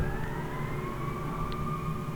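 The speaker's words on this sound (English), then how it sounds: "I got some police sirens in the background here that I think my microphone might be picking up" A steady, rising police siren wails in the distance over a constant low rumble of traffic, continuous throughout, near North Berwick, Scotland.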